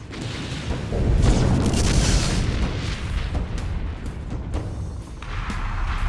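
Starship weapons fire in the Halo-based space strategy game Sins of the Prophets, a steady barrage of booms and explosive blasts rumbling at a loud, dense level for several seconds.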